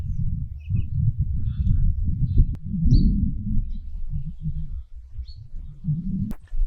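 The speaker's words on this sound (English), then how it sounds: "the striated pardalope, a small bird, quick and agile, feeding on lerps, thrips and insects" A striated pardalote, a small quick bird, gives a few faint, brief high chirps spread through the recording over a steady low outdoor rumble.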